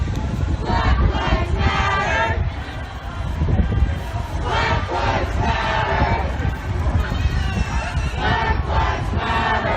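A large protest crowd passing by on a street in Washington DC, loud and close, with dense overlapping shouting and rhythmic chanting that surges in repeated waves throughout.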